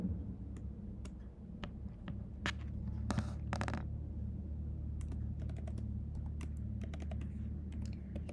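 A computer keyboard typing code into a Jupyter notebook, with quick irregular key clicks and a few dense bursts, close and fairly quiet over a low steady hum, with no speech.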